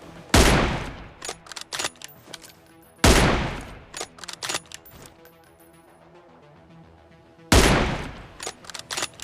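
An M24 sniper rifle fires three loud, sharp shots in PUBG Mobile, spaced several seconds apart, with quieter metallic bolt clicks and clatter between them.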